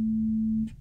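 A steady pure sine tone generated in Max/MSP holds a single pitch for most of a second, then cuts off abruptly, leaving a short burst of faint noise.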